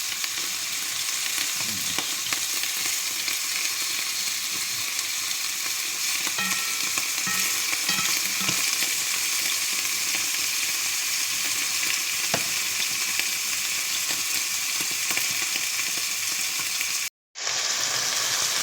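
Chicken fries in a pan, giving a continuous close sizzle and crackle with scattered pops and stirring scrapes. A brief cut to silence comes near the end, and no one speaks.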